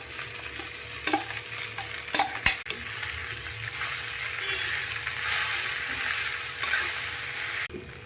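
Poha with lemon being stirred and fried in a kadhai: a continuous hissing sizzle with sharp scraping clicks of the spatula against the pan at intervals, close and moderately loud.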